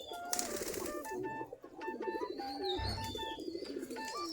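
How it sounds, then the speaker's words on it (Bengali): Local Giribaj pigeons coo softly while eating, their low repeated coos blending with scattered chirps and tweets from other birds nearby at a moderate distance. "আমাদের কবুতরগুলো খাবার খাচ্ছে।"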